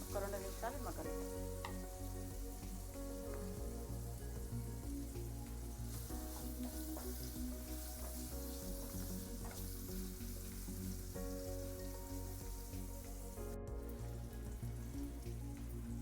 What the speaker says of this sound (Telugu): వంకాయ కాస్త ఫ్రై అయింది కదా